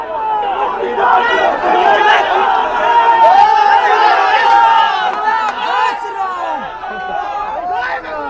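Dense crowd babble fills platform one of Murshidabad Junction railway station, many overlapping voices at a steady, loud level with no single speaker standing out, throughout.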